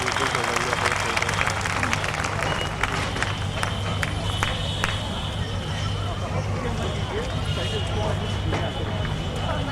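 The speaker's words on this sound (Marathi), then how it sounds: "या सर्व कलाकारांसाठी आपण एकदा जोरदार टाळ्यांचा गजर करूया." An audience claps for the performers at a Buddhist festival gathering, a steady, dense wash of applause from a large crowd lasting throughout, with crowd murmur beneath.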